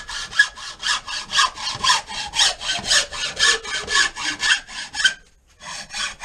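Handsaw cutting off a piece of wood for a cast net gauge, steady back-and-forth rasping strokes, close and loud, pausing briefly before resuming.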